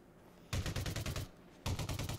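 Two loud bursts of rapid on-foot gunfire in Elite Dangerous Odyssey, each about a second long, with quiet game ambience between them.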